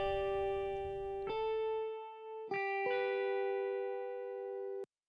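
Two guitars sharing identical EQ and harmonic-enhancer processing play sustained, bright chord tones, a few plucked changes ringing out together and cutting off abruptly near the end, with no talking.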